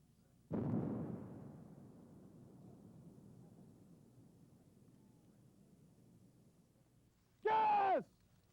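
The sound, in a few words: mine-clearing line charge detonation explosion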